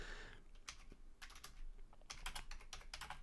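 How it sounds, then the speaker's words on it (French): Text being typed on a computer keyboard, heard as bursts of quick, close key clicks with short pauses between the runs, with no talking. "Je saisis mon texte."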